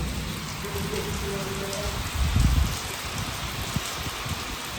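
Heavy rain pours steadily in a village in Pakistan, a dense, even hiss of drops striking surfaces close by, with a brief low rumble partway through and no voices.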